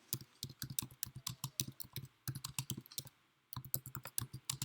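Rapid bursts of key clicks from someone typing a search query on a computer keyboard, close and clear, in quick uneven runs with one short pause midway.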